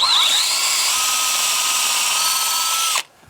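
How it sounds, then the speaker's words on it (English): A power drill bores a sap tap hole into a maple tree trunk, a close, loud, steady whine held for about three seconds before it cuts off abruptly. "I like to drill it on a bit of an angle so the sap flows down into the tap."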